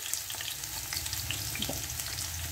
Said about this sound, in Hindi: इसमें लहसुन और ये हरी मिर्ची जो काट के रखी थी वो डाल देती हूँ।